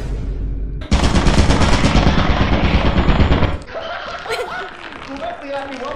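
A turret in the video game Lethal Company fires a dense, loud burst of rapid automatic shots for a few seconds, then cuts off abruptly, leaving softer game noise and faint chatter.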